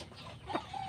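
Chickens raised for sale cluck in a short burst, with one or two sharp close calls over a soft farmyard background.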